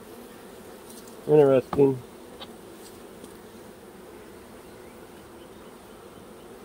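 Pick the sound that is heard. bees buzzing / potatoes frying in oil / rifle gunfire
bees buzzing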